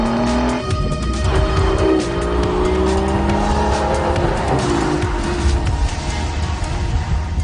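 An Aston Martin V12 Vantage S with a manual gearbox drives hard, its V12 engine loud and close, revving up and down through gear changes with tire squeal, steady throughout with no talking.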